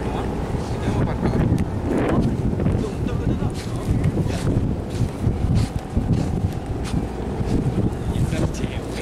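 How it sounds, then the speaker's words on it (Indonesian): Strong wind gusts across a beach at Mertasari where kites are flown, a steady heavy rush and buffeting on the microphone throughout, with faint voices underneath. "Semakin sore anginnya semakin kencang Om."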